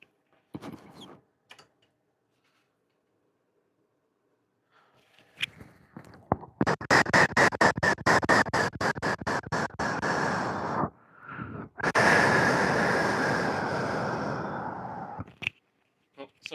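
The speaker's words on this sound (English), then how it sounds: "I was doing some heavy breathing in the mic." Heavy, rapid breathing blown straight into a microphone, loud and close, in rhythmic gusts with brief pauses and a few short bumps at the start and end.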